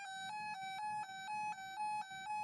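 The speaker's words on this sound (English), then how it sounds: "This is a watch siren." Watch siren from a weather radio: a harsh electronic tone rich in harmonics, pulsing in short regular bursts about every quarter second, close and slightly muffled, with no voices.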